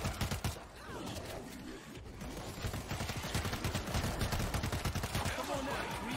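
Rapid automatic gunfire in the zombie shooter World War Z during a New York level, loud dense bursts of shots running nearly the whole time, with voices faintly underneath.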